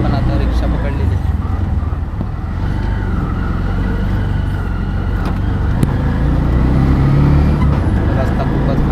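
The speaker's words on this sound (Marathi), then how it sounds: "तर आपण आता रिक्षा पकडलेली आहे।" An auto rickshaw rides along a road near Dapoli, its engine rumbling steadily with road and wind noise throughout, close and continuous, with people talking faintly under it.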